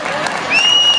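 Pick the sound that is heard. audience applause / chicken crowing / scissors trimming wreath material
audience applause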